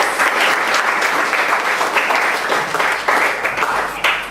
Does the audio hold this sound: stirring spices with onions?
no